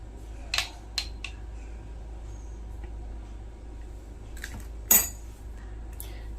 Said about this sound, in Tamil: நல்லா மிக்ஸ் பண்ணிக்கோங்க